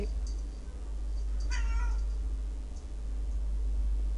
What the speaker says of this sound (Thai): มันมีแมวอยู่แถวนี้ด้วย